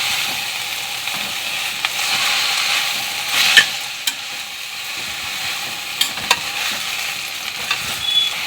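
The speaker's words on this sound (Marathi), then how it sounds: "आता आपण भाजी मिक्स करून घेऊ" Methi (fenugreek) bhaji sizzles steadily in a pan as it is stirred, with occasional scrapes and clinks of the spoon cutting through the continuous close frying hiss.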